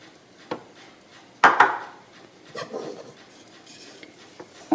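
A utensil mixes almond flour, rice flour and sugar in a bowl for gluten-free chocolate rochers, giving sparse, irregular clinks and scrapes against the bowl over a quiet background.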